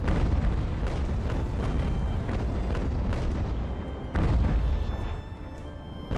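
Sailing-ship cannons firing in the Ultimate Admiral: Age of Sail naval game, a sustained barrage of overlapping loud booms with a heavier cluster of blasts near the end, no talking over it.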